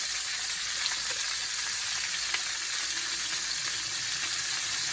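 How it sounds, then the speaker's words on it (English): Green peppers and onions sautéing in a pan alongside browned chicken thighs, a steady close sizzle with light crackles and occasional stirring taps, no voices. "I'm going to add in my green peppers and onions."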